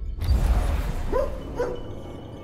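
A dog in the video game IXION gives two short, rising yelp-like barks about half a second apart, set against a loud, constant low rumble of game ambience.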